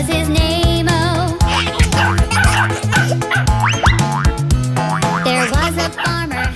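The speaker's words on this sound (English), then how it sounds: "There was a farmer had a dog, and Bingo was his name" A cartoon dog's barking sound effect sits inside a bouncy children's song with band accompaniment, bow-wow yips repeating in rhythm over the music throughout.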